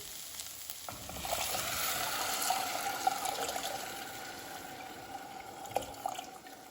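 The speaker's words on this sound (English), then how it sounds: "we're gonna go ahead and add our water." Water pours into a hot pot of cooked spices for an Eritrean lentil curry, hissing and sizzling steadily, with faint stirring clatter and a couple of small knocks.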